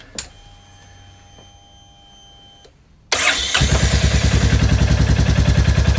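Royal Enfield Meteor 350 motorcycle with a less restrictive silencer: a short starter whir, then the single-cylinder engine catches and settles into a loud, steady, rhythmic thumping idle close by.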